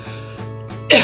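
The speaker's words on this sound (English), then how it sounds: "It's just a cough" A single short cough bursts out at the end, close and fairly loud, after a stretch of quiet indoor room hum.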